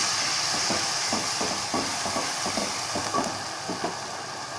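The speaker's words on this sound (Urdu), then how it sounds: "اب اس وقت میں اس میں یہ لہسن ادرک کا پیسٹ ڈال دوں گی، تھوڑا سا فرائی کیا۔" Onions with garlic-ginger paste fry in a pan for dal with bottle gourd, giving a steady close sizzle with light stirring scrapes throughout, no voices.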